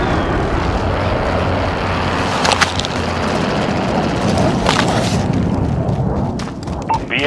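Aircraft drone and explosions from an airstrike in Call of Duty: Modern Warfare: a steady loud roar with two sharp blasts, one near the middle and one later, and radio chatter over the top.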